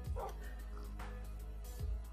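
Tamed dogs in Minecraft let out two soft, separate barks, one near the start and one near the end, with a low, constant hum filling the gaps.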